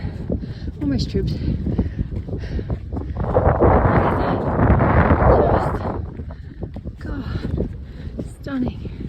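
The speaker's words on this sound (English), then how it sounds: "Sorry about the wind. It's a bit windy up here." Heavy wind on Mount Kosciuszko buffeting the microphone, a constant low rumble that swells louder in the middle, with faint breathing and footsteps underneath on an incline.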